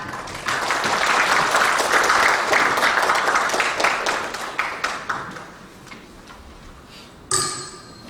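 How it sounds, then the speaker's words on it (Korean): An audience at a Korean academic session applauds as a session chair is introduced, a full burst of clapping that gradually tapers off, followed by a short ringing tone near the end. "큰 박수 부탁드립니다"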